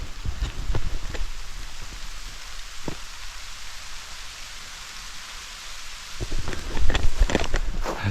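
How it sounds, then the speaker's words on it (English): Steady rain patters on a forest trail at Piney Bluff, Dunns Creek State Park, a soft continuous hiss with scattered drip taps, quieter in the middle and joined by rustling movement near the end. "That's right. It's raining."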